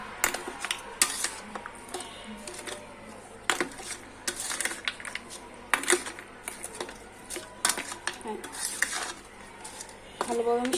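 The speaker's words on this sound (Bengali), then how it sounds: "দিয়ে আমি প্রথমে ভালোভাবে মিশিয়ে নিব" A spoon clinks and scrapes irregularly against a container while raw mango sherbet with salt and crushed ice is stirred, making close, busy rattles and clatters with no speech.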